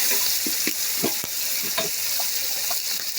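Garlic paste and green chillies fry in a pan, a steady bright sizzle broken by several soft knocks and scrapes of stirring, no talking.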